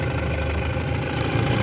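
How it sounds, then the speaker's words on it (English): A vintage Mercury outboard motor runs just after starting, a steady loud mid-pitched engine drone filling the short span with no talk. "gonna go ahead and fire that one up"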